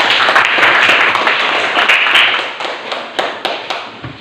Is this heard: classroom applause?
yes